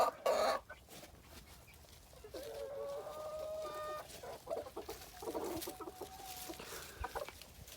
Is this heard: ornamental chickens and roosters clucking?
yes